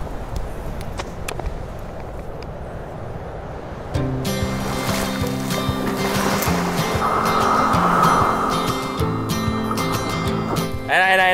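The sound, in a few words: sea waves at a beach campsite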